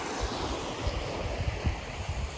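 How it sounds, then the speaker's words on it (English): A small creek flows at the Dollywood theme park, a steady close rush of water with occasional soft splashes, mixed with some wind buffeting on the microphone. "got us some little creek action."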